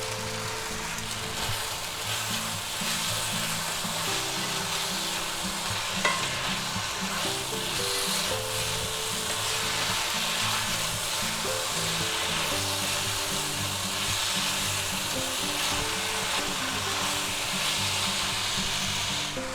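Dry white wine added to a chicken, broccoli and mushroom stir fry brings a loud, continuous sizzle, with steady stirring over about twenty seconds.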